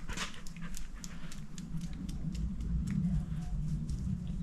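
A shop dog in a workshop pants in quick, rhythmic breaths, close and fairly quiet, over a low steady background hum.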